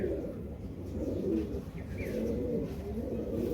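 Pigeons coo steadily at close range, a continuous low throaty murmur from several birds on a loft stand, with no voices over them.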